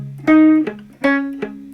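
A few clear electric guitar notes ring out in a short, slow riff, played with one hand, each plucked note sustaining before the next, close and alone.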